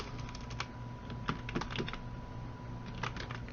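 Rapid computer keyboard typing while entering data into an Excel spreadsheet, with irregular bursts of close, crisp key clicks and occasional heavier keystrokes, heard alone.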